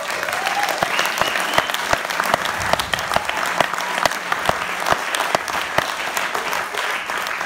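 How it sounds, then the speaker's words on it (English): An audience gives a round of applause for the band at a jazz tribute concert, with loud, close, continuous clapping and scattered sharp individual claps. "Let's have a round of applause for the guys."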